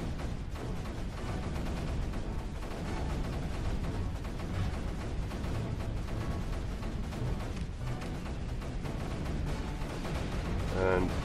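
Booming cannon blasts and rattling gunfire from a battle in the video game Creeper World 3, dense and continuous, with a faint voice mixed underneath.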